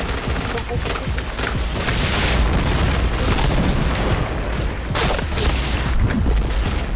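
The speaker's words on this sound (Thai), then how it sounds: "โอ้โหระเบิด" Explosions and gunfire in the online shooter Point Blank: dense, loud booming blasts and rapid fusillades fill the whole span with a continuous roar, with a couple of heavier bursts standing out.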